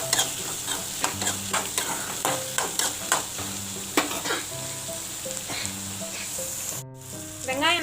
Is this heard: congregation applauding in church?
no